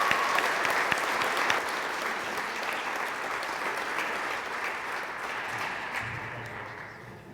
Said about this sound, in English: So please welcome me and giving him a big round of applause.